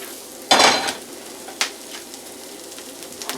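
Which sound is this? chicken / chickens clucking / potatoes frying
potatoes frying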